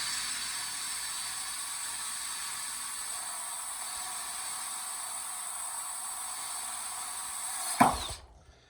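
A drill spins at high speed, steadily cutting a hole through a taped panel for a homemade tea tray, giving a sustained high whine close by that ends with a short clatter as the bit breaks through and stops.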